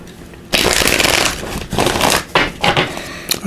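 A deck of tarot cards being shuffled by hand close up, with a long riffling burst followed by several shorter rustling shuffles and brief pauses between them.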